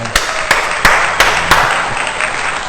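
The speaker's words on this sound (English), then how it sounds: "Let's give this man a huge round of applause" Audience applauding and clapping for a gospel singer, a steady wash of clapping with a few sharp louder claps punctuating it, close and lively, no talking over it.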